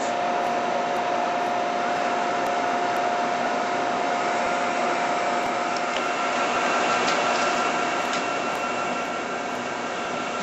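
Hot Coat wheel coater spinning at high speed, a loud, steady, unbroken whirring drone with a constant hum held evenly throughout, with no talk.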